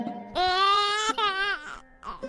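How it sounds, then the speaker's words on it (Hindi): A newborn baby cries in a thin, wavering wail, one long rising cry followed by a shorter break and a softer whimper, close and alone with no talk. "बस एक नन्ही सी किलकारी हवा में गूंज उठती है।"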